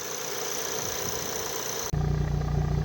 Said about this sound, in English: I especially love the exhaust sound.